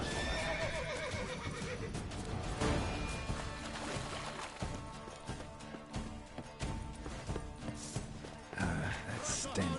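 A horse whinnies and its hooves clip-clop in The Witcher 3: Blood and Wine, the neighing loud and close over a thick, continuous bed of game sound.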